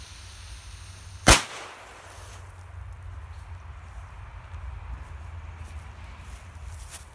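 A Black Thunder PXP205 Piromax black-powder firecracker goes off outdoors on grass with a single sharp, loud bang, followed by quiet outdoor ambience.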